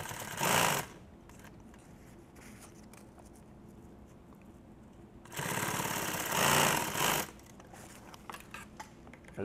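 A sewing machine stitches through bulky nylon tactical gear in two loud runs, one brief and one longer, separated by a quieter pause with faint mechanical clicks.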